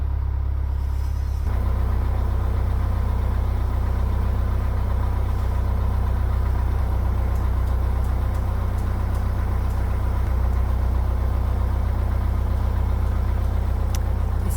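A canal boat engine runs steadily at a low idle throughout, a constant close chugging drone with faint background ticks.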